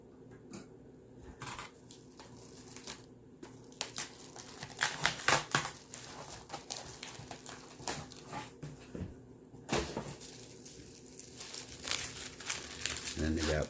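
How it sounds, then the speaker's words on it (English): A dull little knife saws and rips through a taped package of comic books, producing close crinkling, tearing and scratching bursts in an irregular run over quiet room tone, with someone talking at times. "This opening it up with this dull little knife just ain't cutting it."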